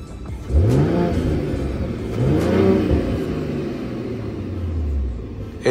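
A 2024 Mercedes-AMG GLE53 Coupe's active exhaust revs loudly in sport plus mode, with a strong rise and fall at the start, a second swelling rev midway, and a deep rumble that keeps sounding to the end.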